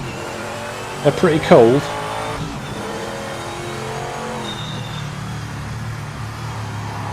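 A race car heading out on a warm-up lap in the Project Motor Racing sim, with a steady engine drone and tire noise running the whole time, and a person briefly speaking over it near the start.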